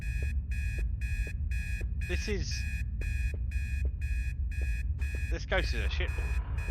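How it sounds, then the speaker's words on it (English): A repeating electronic alarm clock beeps in steady pulses throughout, sounding inside a house in the ghost-hunting game Obsideo, with someone talking over it in brief bursts. "There's an alarm clock."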